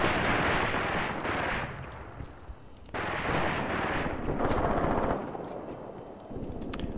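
Gunfire and artillery in the Graviteam Tactics war game make a continuous loud roar of distant blasts and rattling shots, swelling and easing, with a few sharp cracks near the end.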